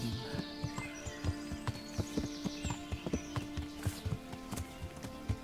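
Horse hooves clip-clop at a steady walking pace in Kingdom Come: Deliverance, close and even, with a low droning game soundscape underneath and no talking.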